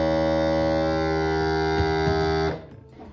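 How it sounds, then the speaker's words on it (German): A vacuum sealer runs with a steady electric hum for a few seconds, then cuts off abruptly, leaving quiet room noise. "Also für einen Vakuumierer ist er irre leise."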